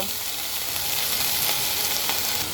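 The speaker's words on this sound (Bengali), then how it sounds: "পেঁয়াজটা কিন্তু সুন্দর করে ভেজে নিয়েছে এখন আমি দিয়ে দেব ডালগুলো মুসুরির ডাল দিয়ে দেব" Masoor lentils hitting fried onions in a hot pan give a loud, steady, broadband sizzle that holds without pause, close and alone.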